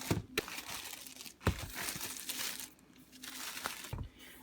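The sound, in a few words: crinkling plastic wrapping around an Amazon box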